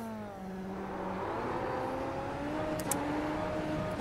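Racing car engine in a sim racing game, revving steadily and pulling away from the line with rising harmonic tones, loud and continuous for the whole stretch with no talking.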